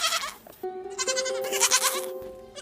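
Goats bleat in several overlapping calls, close and fairly loud, wavering cries alone with no talk.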